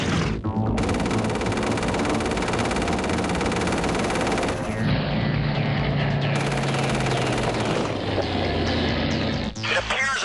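Machine guns of Mitsubishi A6M Zero fighters fire on Grumman F4F Wildcats in a dense, continuous loud burst of rapid gunfire mixed with engine roar, cutting off abruptly near the end.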